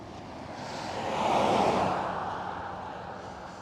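An Aer Lingus airliner taking off at Amsterdam Schiphol, a distant broad jet roar that swells to a peak midway and then slowly fades, with no talk.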